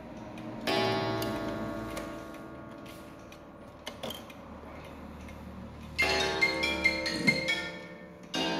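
An antique Japanese Seiko Sha wind-up mechanical pendulum clock ticks close and distinct with faint mechanical creaks, and a louder metallic ringing burst of the movement near the start and again toward the end.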